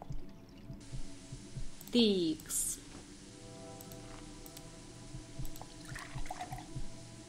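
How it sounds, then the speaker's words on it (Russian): In the video game Fran Bow, water pours from a small tap into a bottle, a brief splashing fill near the start followed by faint dripping and game ambience, with a short spoken word over it. "Я наполнила бутылку водой."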